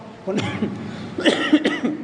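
A couple of short, harsh coughs up close, with a brief pause between them, like someone clearing a tickle in the throat.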